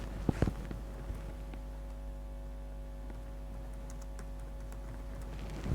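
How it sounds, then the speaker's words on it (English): Fingers typing on a computer keyboard, a few sharp key clicks early then softer scattered taps over a constant electrical hum, no talking. "Then now you type what you want."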